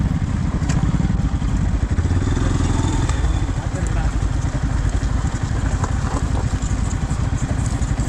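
A motorcycle labours up a rough, steep mountain forest road near Anaikatti–Attappadi, Coimbatore, its engine chugging loud and close with rattling clatter, while a rider talks over it.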